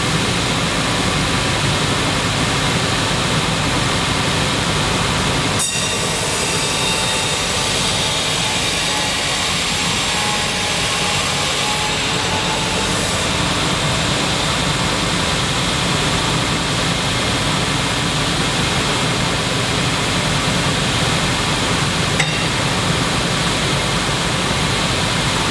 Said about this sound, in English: we have some serious grinding power on this machine, so we grind away black skin